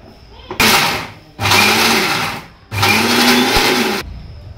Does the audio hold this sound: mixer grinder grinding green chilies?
yes